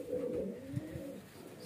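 A highflyer pigeon coos once in a soft, low, rolling call lasting just over a second, close by and alone.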